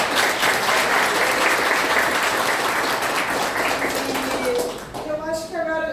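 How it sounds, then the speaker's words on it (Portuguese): An auditorium audience at a university lecture breaks into sustained, dense applause that fades toward the end as a voice begins speaking over the last claps. "A gente então vamos uma salva de palmas"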